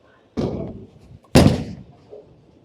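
A bowling ball meeting the lane and striking pins in a bowling alley. Two loud, sharp impacts come about a second apart, the second brighter and followed by a short clattering tail, set against near silence.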